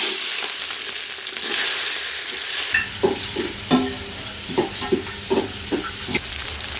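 Onions and whole spices for a mutton curry sizzle and crackle in hot oil, a loud steady hiss at first, then a quieter fry broken by several distinct stirring scrapes, with no one speaking.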